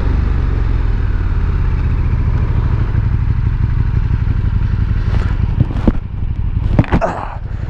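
A KTM 1290 Super Duke R motorcycle ridden along the road, its engine a loud steady drone close by, with a few sharp clattering bumps and wind buffeting toward the end.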